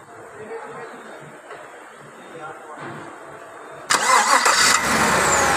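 A car engine cranks and catches in a workshop, on a vehicle with a 6L80 automatic transmission under torque converter repair; a sudden loud start near the end settles into a steady running roar after muffled background activity and voices.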